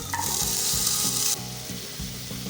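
Small shallots crackle and sizzle loudly in hot oil in a pan, a bright steady frying hiss with low clunks of stirring; the hiss drops off sharply partway through, leaving quieter sizzling and stirring.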